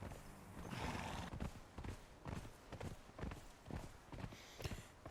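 A horse in the video game Conan Exiles gallops with rhythmic hoof clip-clops and a whinny, a steady pounding gait over a rushing ambient bed, moderately loud and continuous.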